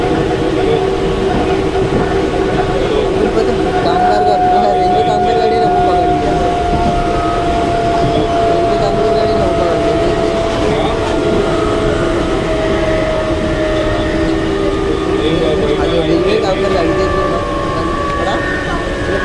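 A train runs along the rail line near Dumbli station, a loud continuous rumble and rattle with a long drawn horn-like tone, steady throughout with faint voices underneath.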